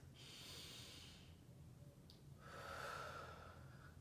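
A person draws a slow breath through the nose and lets it out, two soft airy rushes close to the mic in an otherwise quiet room.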